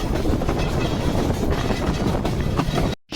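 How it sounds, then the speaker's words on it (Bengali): The Lalmoni Express intercity train runs at speed after leaving Santahar station, a loud continuous rumble and rattle of wheels on track heard from on board, cutting off abruptly at the end. "সান্তাহার রেলওয়ে স্টেশন ছাড়ার পর বেশ ভালো পরিমাণ গতি নিয়ে ছুটে চলেছিল আজকে আমাদের সফর সঙ্গী আন্তনগর লালমনি এক্সপ্রেস"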